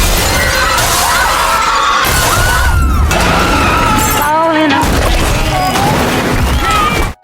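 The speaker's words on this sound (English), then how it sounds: "cracks in the glass floor are spreading rapidly, and the supporting steel beams are coming loose" Glass floor shattering in a dramatic film scene as cracks spread and steel support beams come loose, a loud, dense burst of breaking glass and crashing impacts with booming low rumble, layered with score and screams throughout.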